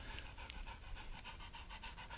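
A retriever dog pants rapidly and rhythmically up close, a steady run of quick breathy huffs with no voices over it.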